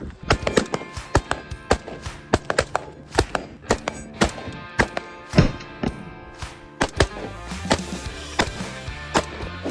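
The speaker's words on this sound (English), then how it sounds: "So we're shooting steel at 175 yards" AR15 rifle fire on an outdoor range aimed at steel targets 175 yards out, heard as a long series of sharp, irregularly spaced cracks and thumps with varying loudness, some nearer and louder than others.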